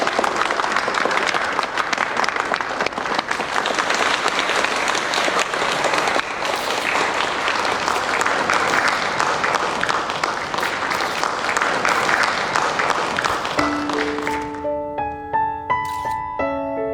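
Sustained, dense applause from an audience at a charity donation ceremony welcoming hospital representatives, steady for most of its length before fading out as a light piano melody enters at the close.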